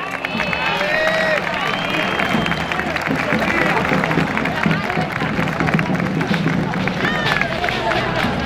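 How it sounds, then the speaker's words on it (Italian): Steady applause from a crowd at a Castellamonte civic ceremony, honouring the seven damsels, the terzieri and the clavario. Dense, continuous clapping with scattered whistles and cheers runs the whole time, with crowd voices mixed in. "Un applauso a tutte le sette damigelle, ai terzieri e al clavario."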